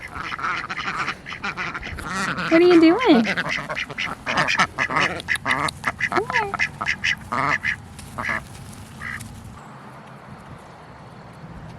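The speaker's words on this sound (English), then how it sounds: "we're gonna walk up to the top of the garden and disturb my ducks because they're hanging out up here" Ducks on a homestead garden quacking repeatedly in a lively, close cluster of calls, with a person speaking briefly among them and footsteps nearby.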